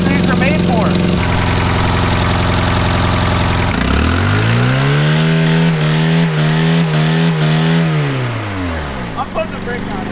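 Car engine running with no oil pan, starting up into a loud roar, revving up and holding at a high pitch for several seconds before dropping back down, close by, with people talking around it.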